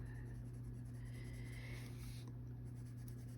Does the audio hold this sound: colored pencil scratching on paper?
yes